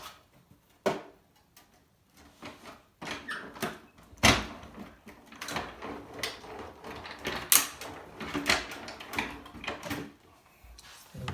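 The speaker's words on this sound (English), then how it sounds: "So I've got my die cutting machine here." A hand-operated die cutting machine cranks a pocket die through, giving irregular mechanical clunks, clicks and rolling scrapes, some sharp and some soft. The sounds are close and fairly quiet, with gaps between them.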